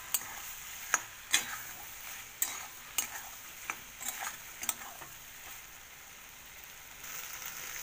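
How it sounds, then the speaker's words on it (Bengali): Soybean chunks stir-fried with sauce and fried potatoes in a pan: a soft, continuous sizzle under irregular sharp scrapes and clacks of a spatula, coming quickly at first and thinning out. "এবার আমি দিয়ে দেবো সস আর ভেজে রাখা আলুগুলো, এবার ভালো করে একটু কষে নেব।"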